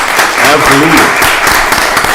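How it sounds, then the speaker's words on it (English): An audience at a Rockdale County Board of Commissioners voting session claps for the infrastructure deputy director, a dense patter of hands that continues under a voice speaking over it. "Give him a round of applause."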